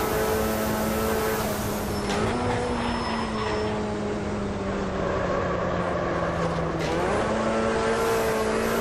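A Puma race car engine in Automobilista 2 at Kyalami, South Africa, droning loud and continuous, with the pitch sliding and rising through gear changes and no voices.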